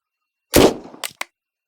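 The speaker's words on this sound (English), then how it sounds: "That might be a gunshot." In the detective game Unheard, a single loud, sharp gunshot cracks and then decays, followed by two quick fainter knocks.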